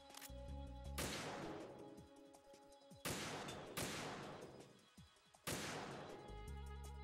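Gunfire in the video game Metal Gear Solid 2: Sons of Liberty: three loud, sharp shots spaced a couple of seconds apart, each trailing into a long echoing decay over a faint tonal game background.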